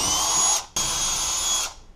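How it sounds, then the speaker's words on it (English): A high-pitched power drill whines loudly for about half a second while drilling holes into a wall, stops briefly, then runs again for another second before winding down. "Then we'll go ahead and drill out those holes,"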